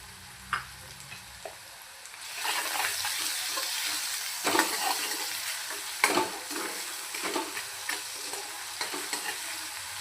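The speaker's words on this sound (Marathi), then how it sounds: "कांदा छानपैकी लालसर असा आपल्याला परतून घ्यायचा आहे" Onion sautéing in a pan for tomato chutney, a quiet start giving way to a loud continuous sizzle with repeated sharp spatula scrapes and stirs close by, no talk.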